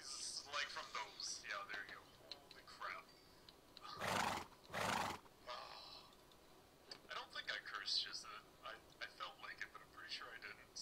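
Horse neighing in the video game Minecraft, two loud whinnies in quick succession mid-clip, surrounded by game sounds and voices before and after.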